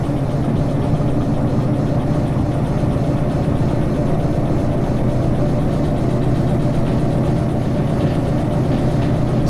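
A little diesel shunter locomotive in Derail Valley labours steadily up an incline, its engine drone loud and continuous with a low rumble throughout.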